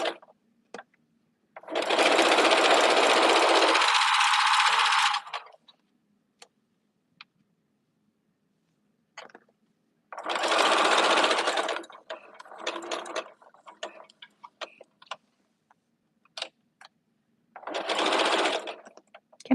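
A sewing machine stitching fabric runs in three loud, steady bursts, a long one and two shorter ones, with quiet gaps between them filled by faint clicks and handling noises.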